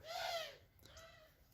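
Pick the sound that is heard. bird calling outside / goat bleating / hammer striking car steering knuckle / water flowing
bird calling outside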